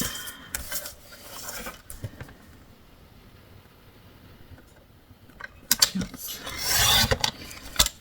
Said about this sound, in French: Je vais couper d'abord ce côté.